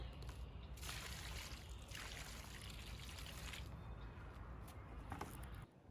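Water trickles and pours onto soil around a newly planted oak leaf hydrangea, a steady close splashing dribble that surges and eases in waves over several seconds, with no talking.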